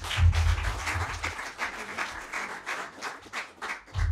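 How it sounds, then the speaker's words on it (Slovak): An audience applauds at the close of a live Slovak podcast recording: a dense, steady wash of many hands clapping that carries through the whole stretch. "Ďakujeme, potlesk."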